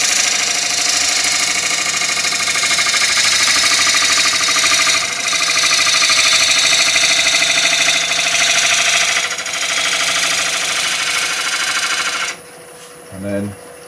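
A wood lathe spins while a gouge makes a finishing cut on a three-leg stool part, a loud continuous whirring drone that runs steadily for about twelve seconds before cutting off abruptly.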